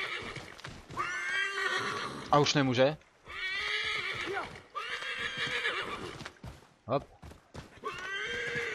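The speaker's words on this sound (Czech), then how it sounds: "Výdrž koně, sprintování ubírá koni" A horse in the video game Assassin's Creed 3 whinnies sharply in a couple of short bursts, with faint hoofbeats mixed into game sound, while someone talks over it almost continuously.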